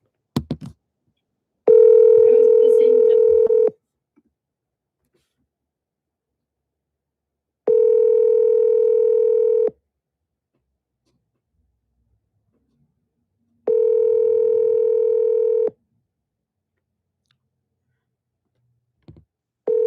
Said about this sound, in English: I think this is probably his phone number since it's ringing.